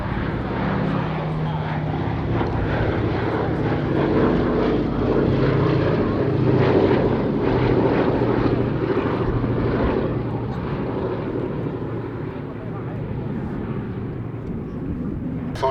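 WWII aircraft on a flypast at the Duxford Summer Airshow: a continuous loud propeller-engine roar that swells and then slowly fades as the planes pass, with a commentator talking over it.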